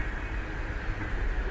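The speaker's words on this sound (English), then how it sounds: "And that railroad is still rumbling away as we speak." A train rolls along a Canadian railroad, a steady low rumble with a constant hum above it, heard briefly at moderate volume with no voices.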